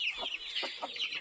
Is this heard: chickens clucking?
yes